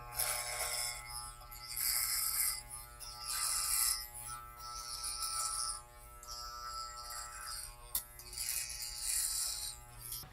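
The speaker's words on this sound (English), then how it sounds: "So I'm going to go ahead and shave some more" An electric beard trimmer buzzes steadily while shaving a long gray-dyed beard, rising and falling in loudness as it passes through the hair, close and continuous.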